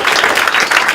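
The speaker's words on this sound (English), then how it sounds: "give a round of applause again for Mr." Brief burst of audience applause at an English-language standup comedy show in Antwerp, a dense, lively patter of clapping lasting about a second.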